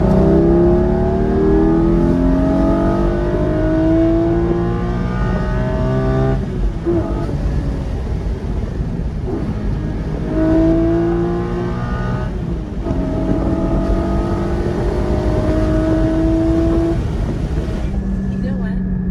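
Porsche 718 Cayman GT4 with the sport exhaust engaged, revving hard and climbing through gears with rising howls and brief dips between shifts, loud and close from inside the cabin with the windows down, a voice speaking underneath at times.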